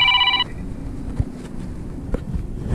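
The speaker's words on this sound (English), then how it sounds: "If you heard the phone ring there." A mobile phone rings briefly at the start, a short electronic tone, then wind and water noise take over at a public beach where anglers fish from a dock.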